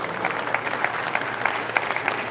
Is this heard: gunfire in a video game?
no